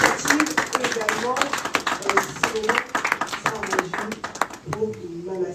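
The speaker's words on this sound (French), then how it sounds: "Est-ce qu'on peut applaudir, s'il vous plaît, encore une fois, pour cette belle initiative" Audience applause breaks out at a press conference about a large concert at a hippodrome, steady clapping running throughout beneath a voice speaking over it.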